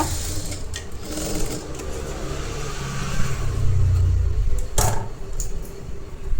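An electric sewing machine stitches a princess-cut blouse with a steady, close whirring hum that rises slightly midway and pauses briefly near the end. No one speaks.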